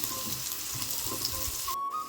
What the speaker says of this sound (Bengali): এই গাজর আর বিনসগুলো ভাজছি এখন